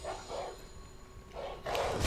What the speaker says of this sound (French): il y a des chiens, en fait, qui vont vous attaquer